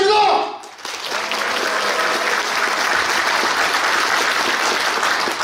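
Cheering and hearty applause from union delegates opening a regular convention in Gyeongju, a sustained full-room roar of clapping that rises after a voice ends and holds steady.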